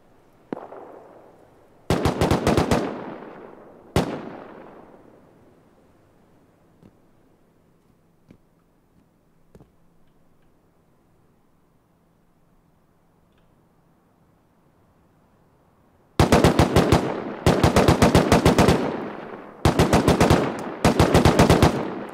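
Automatic gunfire in the survival video game Rust, with loud rapid bursts of shots, a single sharp crack, a long quiet gap, then several more dense volleys in quick succession; no talking.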